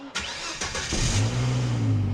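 A Volvo 850 turbocharged engine cranks briefly with a whirring starter, then catches and settles into a steady, close-up idle.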